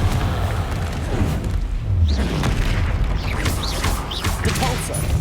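Confringo spell blasts in Hogwarts Legacy, heavy booming explosions and crashing debris in a fight near a troll, loud and dense throughout with a voice at moments.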